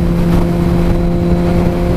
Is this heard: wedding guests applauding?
no